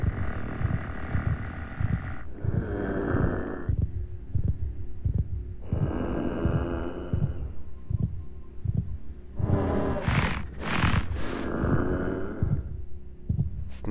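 Creature sniffing in the Minecraft game, repeated soft snuffling bursts over a low throbbing heartbeat-like pulse and dark ambient hum, sounding close by.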